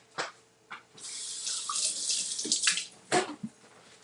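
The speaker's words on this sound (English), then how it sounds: "The measuring cup. I'm gonna rinse this out." A measuring cup rinsed under a kitchen tap: short bursts of running water, then a longer splashing stream for about two seconds, and a final quick rinse, close and clear.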